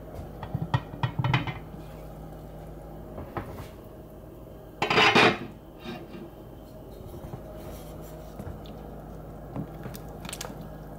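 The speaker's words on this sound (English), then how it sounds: "So let's get a spoon and stir this stuff." A spoon stirs bone broth in an 8.5-quart pot, giving several soft scraping and clinking knocks, with one louder rough burst of scraping in the middle over a quiet background hum.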